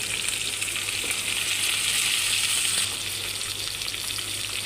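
Onions and bitter gourd frying in a pan, a steady close hiss and sizzle with a faint low hum underneath, easing slightly after a few seconds.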